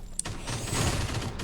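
Gunfire in a mobile video game as a balloon is shot, a short sharp burst near the start followed by a dense, continuous rumble of game action and shots throughout.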